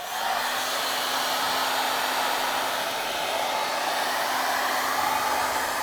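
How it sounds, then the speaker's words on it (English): A blow dryer heating a garden hose runs steadily at close range, a constant loud whooshing hum with no pauses. "I'm just going to use a blow dryer and heat this all up"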